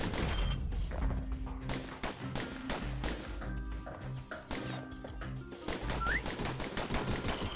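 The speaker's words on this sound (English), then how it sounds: "Those pistols could spit out rounds just as quick as you could pull the trigger." Rapid pistol shots crack in quick succession during a Bastion battle, a steady string of sharp reports over a busy game soundtrack with thuds and taps mixed in.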